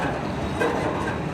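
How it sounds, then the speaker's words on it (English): CN mixed freight train in Port Huron, Michigan rolling past with a steady loud rumble of railcars and faint wheel clatter, no talking. "That is a big train, holy crap."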